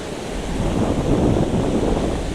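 Ocean waves wash onto a shore during a fishing trip, a continuous loud rushing surf mixed with wind buffeting the microphone, swelling slightly in the middle, with no talking.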